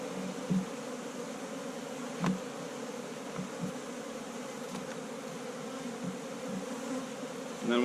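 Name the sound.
honey bees buzzing around an open hive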